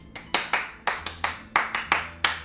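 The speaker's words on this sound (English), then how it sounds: "we're going to do a rhythmic clap" Hand clapping in a rhythmic dance pattern for a Paueru mashup dance routine: about nine sharp, close claps in an uneven syncopated rhythm, heard alone without talk.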